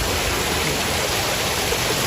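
The Devdari and Rajdari waterfalls and their stream give a loud, steady rush of falling water that fills the whole clip, with no other sound.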